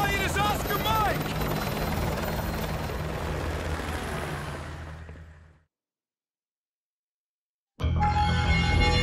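Helicopter in the video game Call of Duty Modern Warfare 2 Remastered, a loud steady rotor thump and engine drone close by under raised voices, fading to silence for about two seconds before the roar returns abruptly.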